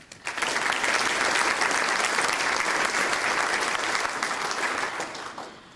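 A city's State of the City address crowd breaks into full, steady applause, rising quickly to a loud, even wash of many hands clapping that fades near the end.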